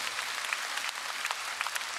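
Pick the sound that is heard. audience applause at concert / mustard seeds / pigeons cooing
audience applause at concert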